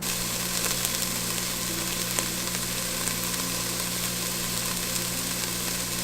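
Vegetables sizzle steadily in a pan while cooking for a homemade pizza sauce, a continuous even hiss with a low hum beneath and no talking.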